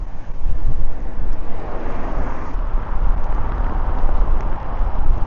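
Gusting wind roars across the microphone of a cyclist riding an exposed ridge road toward Plimmerton, a loud continuous low rumble that swells and eases without any voices.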